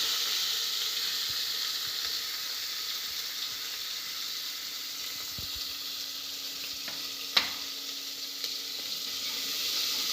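Oil sizzles and crackles steadily as chopped onions fry in a pan for chicken gravy, with a brief clink of a utensil partway through.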